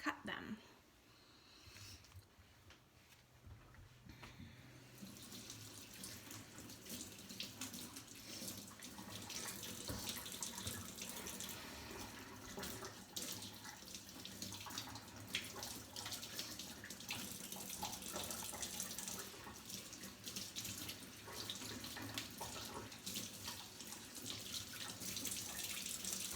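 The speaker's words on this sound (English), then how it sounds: "I'm just going to rinse all those ingredients and cut them" Tap water runs steadily from a kitchen faucet while cilantro and parsley are rinsed, a constant close hiss and splash that starts after a brief quieter moment and continues throughout.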